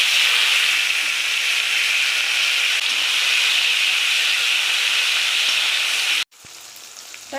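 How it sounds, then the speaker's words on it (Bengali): A dried red chilli and cumin seeds sizzle in hot mustard oil in a kadai, a loud, continuous bright hiss that cuts off abruptly near the end. "কড়াতে সর্ষের তেল দিয়েছি। আমি ফোড়নে দেব একটা শুকনো লঙ্কা, একটু জিরে ফোড়ন"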